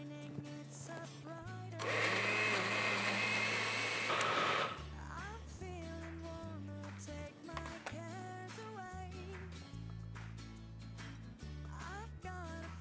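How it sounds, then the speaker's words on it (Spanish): A blender whirs through yogurt, vanilla and agave honey in a short loud burst of roughly three seconds, set against background music that keeps playing before and after. "y ahora a la licuadora"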